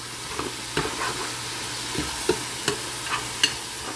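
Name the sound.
sautéing meat in a pot for chicken macaroni soup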